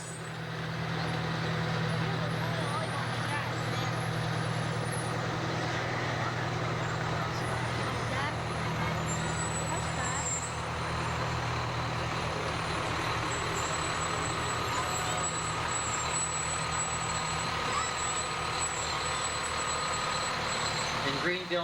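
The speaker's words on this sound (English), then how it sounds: "Greenville brought several trucks with them today as well." Greenville Fire Department apparatus from Greenville, New York rolling by in a parade, a loud steady heavy engine rumble with traffic noise and a faint high whine, while a voice announces over it.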